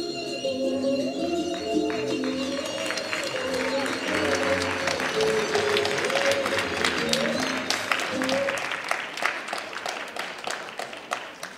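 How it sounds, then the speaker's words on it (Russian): Audience applause after a Naruto-themed stage skit at a Moscow event, sustained dense clapping that holds steady and then thins into scattered claps, with a voice speaking over it. "Встречали аплодисментами, провожаем аплодисментами."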